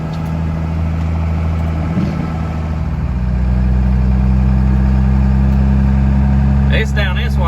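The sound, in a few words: 12 valve Cummins diesel truck engine idling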